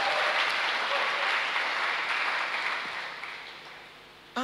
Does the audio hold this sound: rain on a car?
no